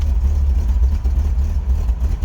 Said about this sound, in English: your exhaust is leaking, you have no back pressure